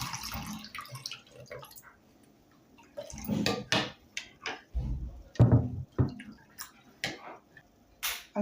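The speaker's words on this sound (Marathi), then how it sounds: "आवश्यकतेनुसार पाणी घालायचं" Water is poured into kokum solkadhi in bursts, with splashing and stirring of the liquid close by and short pauses between the pours.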